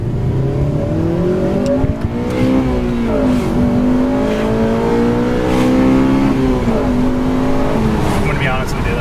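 An 8th-generation Honda Civic Si with Mugen parts revs and accelerates loudly, its pitch climbing and dipping in steady harmonic sweeps throughout, lacking power at high revs, with some talk faintly underneath.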